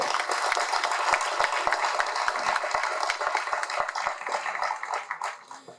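Loud, dense applause from a hall audience fills the space, a steady wash of many clapping hands with sharp individual claps, tapering slightly toward the end.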